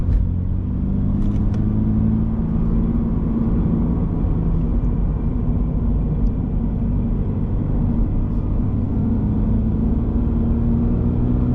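A 2024 Subaru BRZ cruising on the road with a steady, loud engine drone and rumble that holds constant and close throughout, with no speech.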